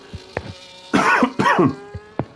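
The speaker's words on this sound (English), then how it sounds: "There'll be a lot of coughing." A pair of rough, heavy coughs close to the microphone, set between a few soft knocks and clicks.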